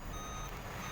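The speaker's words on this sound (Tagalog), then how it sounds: "O yan yung alarm na mababa na yung hangin." A continuous electronic low air pressure warning tone drones steadily from a HOWO 380 truck, with engine noise underneath.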